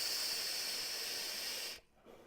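Airflow hiss from a Vaporesso Gemini RTA vape with the side airflow fully open: one steady, close breathy draw lasting under two seconds, then cutting off abruptly into near-silence.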